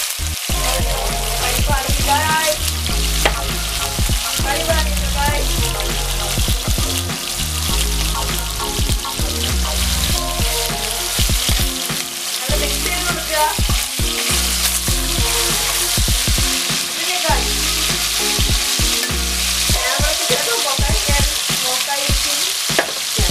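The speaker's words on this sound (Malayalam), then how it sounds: "നല്ല കിഡിലായിട്ട് ഫ്രൈ ആയി വന്നിട്ടുണ്ട് നമ്മളെ ചിക്കൻ." Chicken fries in a pan while fried rice is being made. A loud, continuous sizzle is broken by repeated stirring and scraping, and no one speaks.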